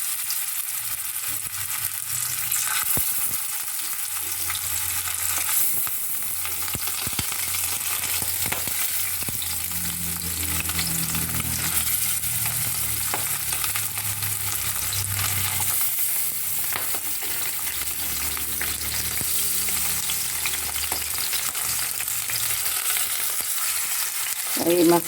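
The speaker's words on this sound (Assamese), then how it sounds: "আৰু এই মাছকেইটা মই এটা চাইডে ভাজি ল'ম" Fish sizzling and frying in hot mustard oil in a kadai, a steady close crackle and hiss that runs throughout with no talking.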